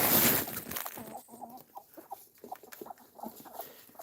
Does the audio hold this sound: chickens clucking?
yes